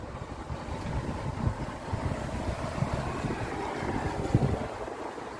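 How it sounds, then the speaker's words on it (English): Wind gusts outdoors in wet, cold weather at a site where old structures are being repaired, a steady, dense roar buffeting the microphone with rough low rumble and brief stronger bursts, no voices. "Wet, cold, windy, the usual kind of weather that I get when I'm working on things like this."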